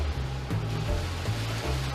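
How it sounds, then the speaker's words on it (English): Steady rushing of an indoor waterfall pouring into a pool in a humid concrete bunker, a continuous broad wash of falling water with low rumble, moderately loud and close, with no voices. "There's even a waterfall."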